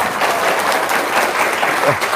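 An audience bursts into applause, a dense burst of clapping that fills the space at close range and holds steady throughout.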